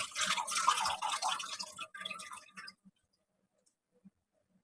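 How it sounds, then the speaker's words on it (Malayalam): Tamarind water pours into a pan on a gas stove for a Palakkad-style sardine curry, a close, splashing trickle lasting under three seconds, then a few faint, sparse drips in near silence. "ആദ്യം നമുക്ക് കുറച്ച് പുളിവെള്ളം ഒഴിക്കാം."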